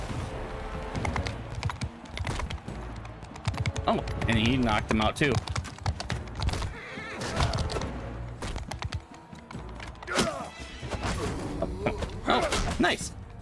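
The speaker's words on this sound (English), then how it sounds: "That horse looks like it's bleeding." Horses in the Mount & Blade: Bannerlord video game galloping through a battle, with steady clip-clop hoofbeats and thuds throughout and occasional neighing, under someone talking.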